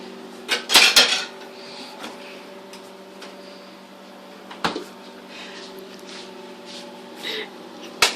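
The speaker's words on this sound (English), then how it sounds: "So I'm going to put the butter and knife away." Butter and a knife are put away during kitchen cleanup: a cluster of sharp clinks and clatters near the start, then scattered lighter taps and knocks over a quiet room hum, close and alone.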